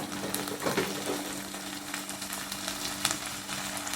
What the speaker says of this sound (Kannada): ಶುಂಠಿ ಬೆಳ್ಳುಳ್ಳಿ ಪಾಸ್ಟ್ ಹಾಕಿ ಚೆನ್ನಾಗಿ ಫ್ರೈ ಮಾಡುವ